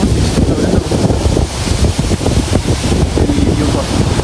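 Steady roaring rush of Athirappilly waterfall in Kerala, heard from a hotel overlooking the falls, a dense continuous wash of falling water with wind buffeting the microphone throughout.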